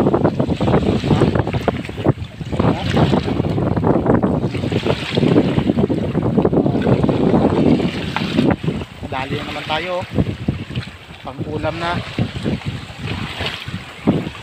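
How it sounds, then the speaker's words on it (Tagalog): Strong wind roars and buffets the microphone throughout, with someone talking over it and water sloshing nearby, while fishing for squid at night. "Malakas yung hangin, eh."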